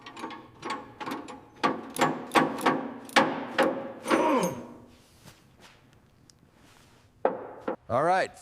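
Metal parts being pried and unbolted while the fenders come off a 1930 Ford Model A under restoration: a run of sharp clanks and ratcheting clicks, close and fairly loud, followed by a quieter pause and a few last knocks.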